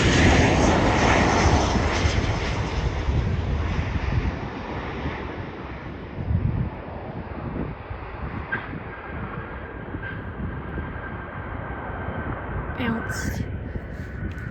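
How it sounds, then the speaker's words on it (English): A Boeing 737 lands at SeaTac airport, its engine roar loud and broad at first and easing gradually, with steady wind buffeting the microphone and brief faint voices nearby. "the 737's coming right now"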